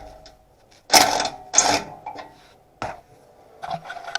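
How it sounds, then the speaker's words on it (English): Makita impact wrench with a 14mm socket loosening a bolt on a 2017 Subaru BRZ, two short loud rattling bursts followed by lighter clicks and clatter. "We're using a 14mm socket, Makita impact, and we're just loosening it."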